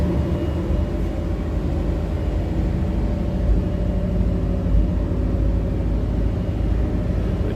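A 1987 Chevrolet Suburban with a 454 engine idles with the choke on, giving a steady, even low rumble that holds unchanged throughout, with no voices.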